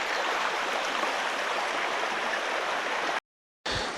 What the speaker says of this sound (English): Look how low the water is, guys.